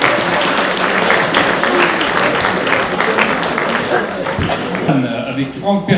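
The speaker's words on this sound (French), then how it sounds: "Et on les applaudit." A crowd applauds at a French snow-groomer drivers' championship podium ceremony, with sustained loud clapping that thins near the end as voices and a loudspeaker come up.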